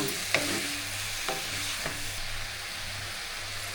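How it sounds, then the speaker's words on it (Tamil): Ginger and garlic sautéing in a pan for spicy prawn gravy, a steady close sizzle with a few sharp utensil scrapes early on, no voices. "அந்த இஞ்சி பூண்டோடு கொஞ்சம் நேரம் நல்லா வதங்கட்டும்"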